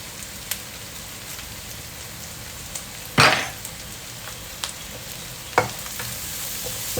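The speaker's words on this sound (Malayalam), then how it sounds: "ഇതിൻ്റെ പച്ചമണം മാറുന്നത് വരെ നന്നായിട്ട് വഴറ്റി കൊടുത്ത്" Crushed garlic, ginger and green chilli sauté with onions in a pan for prawn roast, giving a steady close sizzle with a few sharp scrapes and clinks of the stirring spoon.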